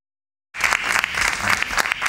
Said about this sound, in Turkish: Alkışlayalım hocama.